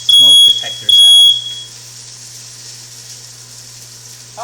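A home smoke detector sounds two loud, piercing high beeps in quick succession over food sizzling in a kitchen, then stops, leaving a steady low hum and frying noise.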